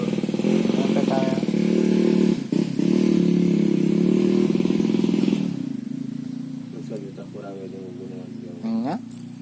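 Motorcycles and cars pass along a road on a rural nature outing in Dayeuh Luhur, a loud close engine drone that steadies and then fades as the vehicles move off, with people talking over it.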